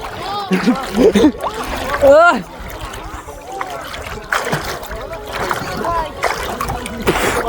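People wade across a deep canal on the way to fish in a beel, water splashing and sloshing around them in close, irregular bursts while voices talk and call out over it.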